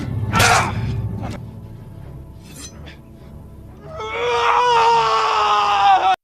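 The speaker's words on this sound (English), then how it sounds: "Lamb regretted his actions, screaming and crying" A man screams and cries out in anguish and regret in a Western-style film scene, with a sharp cry at the start, quieter groans, then a long, loud, wailing sustained scream near the end.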